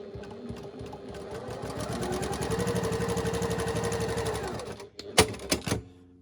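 A sewing machine runs a quarter-inch quilt seam, its close rapid needle rattle rising into a steady hum for several seconds, then stopping with a few clicks and handling knocks.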